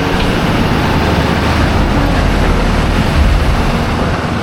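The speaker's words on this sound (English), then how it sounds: "The trucks are struggling to go up." Trucks labour up a steep Hong Kong street, a loud, steady low engine drone with road rumble that holds for several seconds and surges slightly near the end, with no voices.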